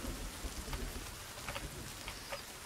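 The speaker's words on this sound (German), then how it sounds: "Ja, es gibt wieder Gewitter." Steady rain in the survival game Sons of the Forest, a dense, even patter of drops with soft low rumble underneath, moderately quiet and continuous with no voices.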